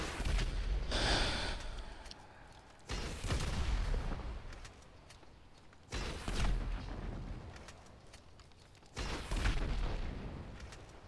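Four heavy explosions from the GTA 5 video game, each a loud broadband blast with a rumbling decay, spaced roughly three seconds apart with no talking.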